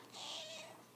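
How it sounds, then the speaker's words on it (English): A single short cat meow, quiet and fairly close, rising and then falling, in a room with faint background hum. "There's the other cat."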